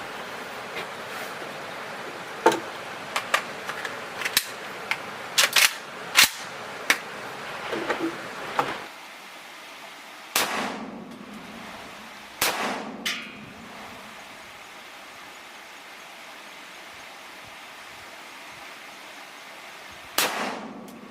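A Chinese Type 56 AK-47 rifle fired at an outdoor range, sharp single shots spaced irregularly, some clustered early and a few widely apart later, ringing and fairly loud over faint background hiss.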